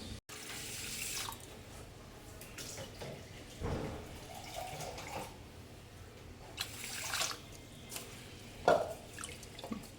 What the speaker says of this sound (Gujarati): હવે એને પણ પાણી રેડી અને રહેવા દઈશું।